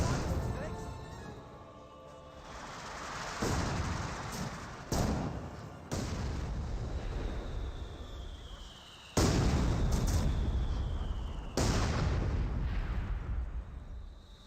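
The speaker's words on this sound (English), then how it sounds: "More mortar hits here." Mortar rounds land in the World War II strategy game Company of Heroes 2, several heavy booming impacts rolling out one after another over ongoing battle noise, with a commentator talking throughout.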